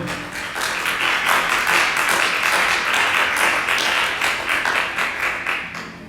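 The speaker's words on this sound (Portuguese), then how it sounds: "Você pode dar um forte aplauso ao Senhor?" A church congregation applauds with dense, sustained clapping that swells and holds for several seconds before easing off, with no voices over it.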